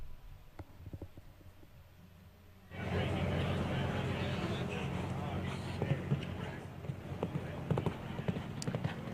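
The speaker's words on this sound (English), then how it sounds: "Horse with quite a bit of stride, can cover the ground quite easily." A horse galloping over the ground at a 1.45m show jumping speed competition, its hoofbeats thudding in a quick rhythm under a commentator's voice and arena noise, the sound swelling louder after a few seconds.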